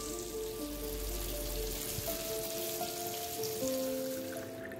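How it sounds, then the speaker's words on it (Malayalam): Fish pieces for fish biryani frying in a pan give a continuous close crackling sizzle, with faint background tones and no speech. "അപ്പോൾ എല്ലാ പീസസും ഫ്രൈ ചെയ്യാൻ വെച്ചിട്ടുണ്ട്."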